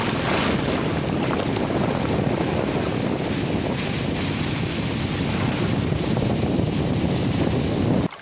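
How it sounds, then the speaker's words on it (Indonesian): Strong wind buffets the microphone over a continuous roar of Indian Ocean waves on the shore, loud and unbroken until an abrupt cutoff at the end. "Angin laut berhembus lembut, ombak berkejaran"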